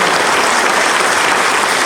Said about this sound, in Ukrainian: Я тобі так само аплодую